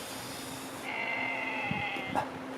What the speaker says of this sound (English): Sounds like a sheep in the background